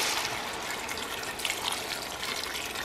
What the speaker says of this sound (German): Gibt etwas Wasser dazu,